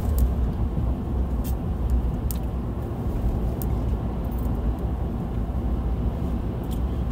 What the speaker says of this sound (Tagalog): dami ng sasakyan sa labas